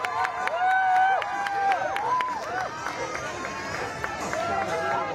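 Crowd cheering and clapping for Stella the dog's jump at the 2022 National Cherry Festival Ultimate Air Dogs finale, a sustained outdoor roar of voices with whistles, under an announcer's talk.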